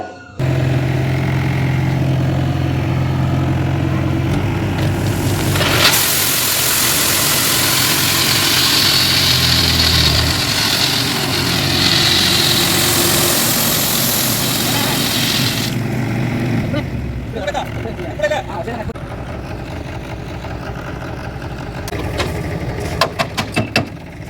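A tractor engine idles through a steady, close, low rumble while it delivers a load of gravel, with a loud, dense rushing burst in the middle stretch and some scattered knocks near the end.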